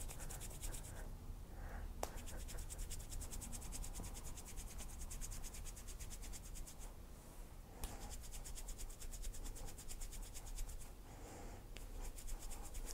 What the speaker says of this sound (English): And then with heat and friction, I am going to splice these.